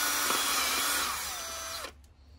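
A power drill with its clutch set low runs steadily, cutting new threads on a bolt from a two-stroke oil pump, whining loudly close by before stopping abruptly near the end.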